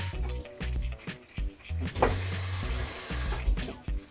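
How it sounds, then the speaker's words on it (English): Water poured into a bowl to rinse out leftover seasoning from Jamaican oxtail and butter beans, then tipped onto the pot; a steady splashing pour runs for a couple of seconds against low background noise. "Just put a little bit of water to rinse out the seasoning that was in this, and pour onto that and cover."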